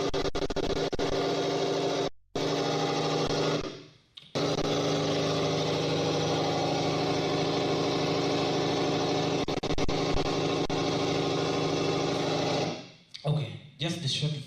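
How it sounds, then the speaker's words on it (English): A running engine drones loudly and steadily, cutting out briefly twice early on and fading near the end, with a busy, rough mechanical hum throughout. "So, of course, engines are quite noisy,"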